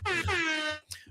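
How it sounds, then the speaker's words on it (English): One loud, blaring air horn blast rings out for nearly a second, then cuts off, followed by a brief short burst. "we're gonna get the air horns going"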